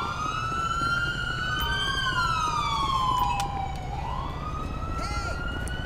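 Police car siren from a 2018 Dodge Charger patrol car in the LSPDFR game, a loud wailing tone rising and falling continuously up close over engine rumble.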